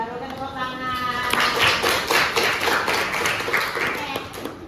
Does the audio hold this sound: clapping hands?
yes